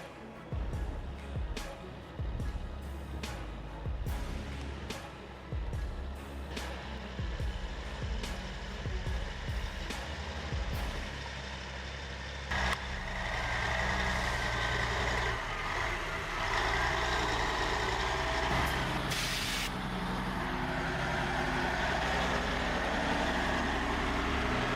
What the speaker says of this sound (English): The Peterbilt 359 is a beast.